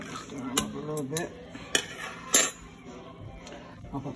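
A spoon scrapes and clinks against a metal pot of beans in a series of sharp knocks, with soft stirring between and a voice murmuring faintly.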